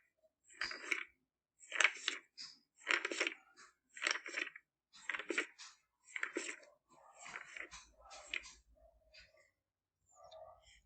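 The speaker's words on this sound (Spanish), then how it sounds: "el timbre es pasando las hojas de un libro" Pages of a book are turned one after another, making about ten short, quiet papery rustles in an even rhythm with brief gaps of silence.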